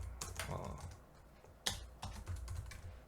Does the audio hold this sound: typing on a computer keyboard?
yes